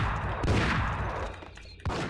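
Sawed-off shotgun blasts in the video game Max Payne HD, two sharp loud shots spaced over a couple of seconds amid busy game noise.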